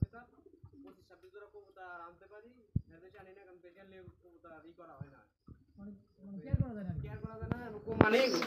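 Pigeons coo under steady nearby talk, their soft calls partly masked by the voices, with a louder burst of bird sound near the end.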